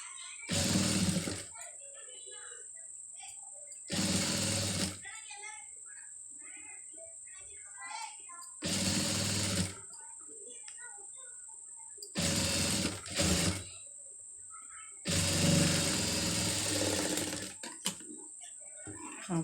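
A sewing machine stitches piping in several short, loud whirring bursts separated by pauses in which a person talks.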